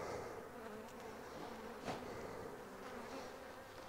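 Honeybees leaving a beehive in Provence make a steady, close buzzing hum, with a few louder individual wingbeats passing by, and no talk.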